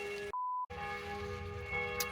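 Nearby bells chime with clear ringing tones that are briefly cut to a single pure tone, then continue over a low background hum.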